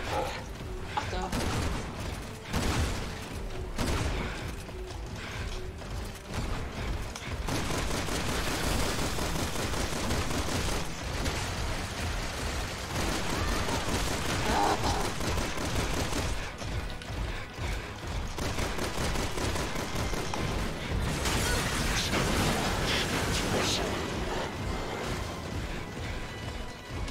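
Loud, sustained gunfire from the video game Resident Doof 6, with rapid bursts and mechanical clatter running almost continuously, while people talk over it.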